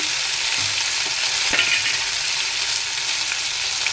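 Onion, tomato and green chilli with a little turmeric frying in a pan, a steady close sizzle running throughout with faint stirring scrapes now and then.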